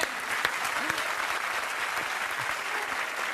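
Steady audience applause in a television studio during a comedy set, many hands clapping continuously at moderate loudness, with a few voices and cheers mixed faintly underneath.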